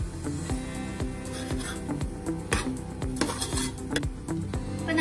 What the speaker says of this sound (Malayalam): ഞാൻ ഇതിലോട്ട് ഇത് മിക്സ് ചെയ്യാണ്. നന്നായിട്ടൊന്ന് മിക്സ് ചെയ്ത്